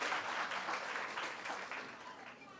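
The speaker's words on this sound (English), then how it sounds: "I think our students need a bigger round of applause." A crowd at a school annual day claps steadily in sustained applause for students, dense and even throughout, with a slight fade toward the end.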